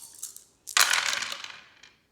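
Eight dice tumble and rattle together across a board during a wargame turn, a sharp clattering burst after a couple of faint taps, then a settling rattle that fades out with no voices.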